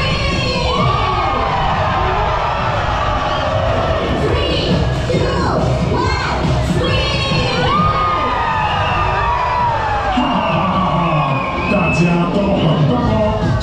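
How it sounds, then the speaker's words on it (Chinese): A Halloween festival crowd at an ocean-themed amusement park screams and shrieks wildly, with children's high-pitched yells and cheering layered densely and loudly throughout. "现在给我最疯狂、最搞怪的尖叫声吧"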